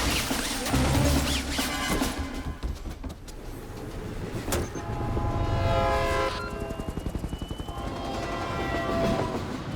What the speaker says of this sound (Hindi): सर ट्रेन टनल के अंदर एंटर हो चुकी है।